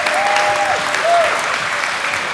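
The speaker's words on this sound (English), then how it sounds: "Let's give these girls a big round of applause for making it this far." Applause for young gymnasts at a state gymnastics championship, a steady round of clapping from the audience in a large hall, with a couple of brief whistling tones over it.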